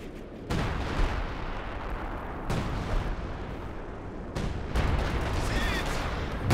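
Mortar fire in Company of Heroes 2 from a pair of mortar pits, several heavy booming blasts spaced a couple of seconds apart over a constant roar of battle, loud and close.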